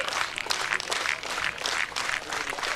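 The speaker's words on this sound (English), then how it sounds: "Now the crowd really comes to life." Crowd at a baseball game at First National Bank Field, Faribault Lakers versus the Fighting Fish, cheering and clapping steadily, a dense roar of many voices and applause with small swells throughout.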